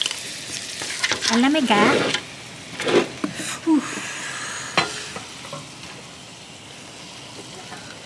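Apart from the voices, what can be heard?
steak frying in butter and olive oil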